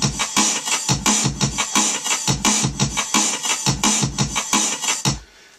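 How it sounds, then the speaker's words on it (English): Old breakbeat drum loop reworked in drum and bass style, with hard, punchy kick and snare hits layered on top, driving in a steady fast rhythm at full volume and stopping abruptly near the end. "would want it all exaggerated with a lot more of a fierce kick and snare and more detail coming through"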